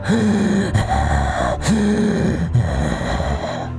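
Heavy, labored breathing in a dramatized scene comes as loud, close gasping inhales and groaning exhales, repeating in a ragged rhythm of about four breaths.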